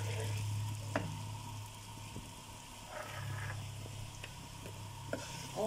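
Golden onion and garlic fry gently with spices in a pan, giving a soft, close sizzle broken by occasional light scrapes and clinks from stirring.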